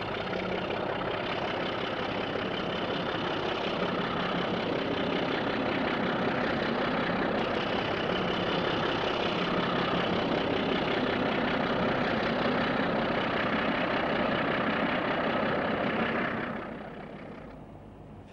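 A British Rail Class 27 diesel locomotive with a GEC power unit idles with a steady, loud, throbbing rumble that holds constant for a long stretch and then eases slightly toward the end.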